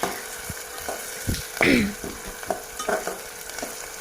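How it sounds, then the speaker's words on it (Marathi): Onions sautéing in hot oil tempered with cumin and mustard seeds for pav bhaji, a soft sizzle broken by a few spoon scrapes and stirring clatters, close and fairly quiet with no talking. "नंतर ह्या चांगला कांदा परतू द्यायचा तेलामध्ये"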